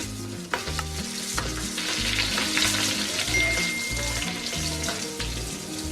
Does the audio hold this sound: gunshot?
no